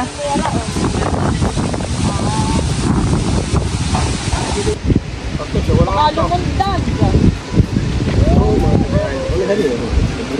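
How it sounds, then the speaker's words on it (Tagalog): Strong wind at sea buffets the microphone in a steady roar with water noise, while people talk over it throughout. "Talaga napakalakas po ng hangin"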